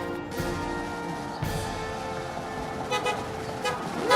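A car horn toots briefly on a street beside a park, a short honk heard amid passing traffic and engine noise, with a few more faint horn-like bursts later over the road sounds.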